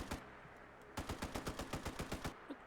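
A Vulkan-M weapon firing in Fallout 4: a single shot, then a rapid burst of about a dozen evenly spaced gunshots in quick succession, fairly quiet and distant-sounding, with no talk over it.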